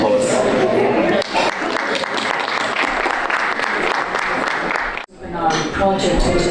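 Audience at a peace symposium breaking into loud, dense applause that continues steadily, briefly dips, then resumes strongly close by.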